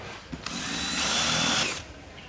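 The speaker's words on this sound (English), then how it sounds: "I put a drill hole in there." A power drill whines steadily as it bores a hole through the wood of a cut-off skateboard deck in a workshop, loud and close for over a second before winding down.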